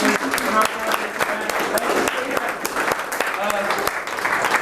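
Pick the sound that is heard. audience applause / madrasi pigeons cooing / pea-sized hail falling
audience applause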